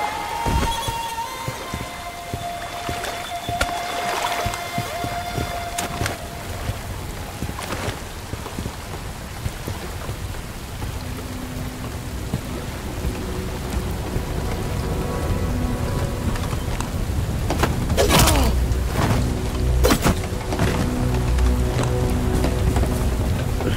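Steady rain in the game Bright Memory Infinite hisses across the whole span, with scattered thunder-like rumbles and louder crackling bursts swelling near the end.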